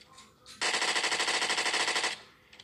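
Scorpion machine pistol fired in PUBG: one rapid, sustained automatic burst of evenly spaced shots lasting about a second and a half, loud and close, with brief quiet before and after.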